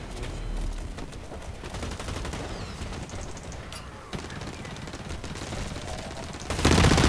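Blacklight Retribution shooter combat with rapid gunfire rattling almost nonstop, the firing loud and close throughout and swelling into a heavier burst right at the end.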